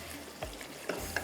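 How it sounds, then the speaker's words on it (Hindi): Onions being stirred and fried in a pot for rogan josh, with a soft sizzle under a few brief scrapes of the spoon against the pot. "पहले हम इसको थोड़ा सा भूनते हैं ताकि ये जो प्याज वगैरह है वो अच्छी तरह से घुल जाए"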